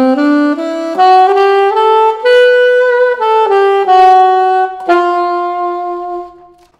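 Alto saxophone improvising a backdoor dominant phrase over a jazz standard, a legato melodic line of connected sustained notes that climbs then descends, loud and close, ending on a held note that fades out.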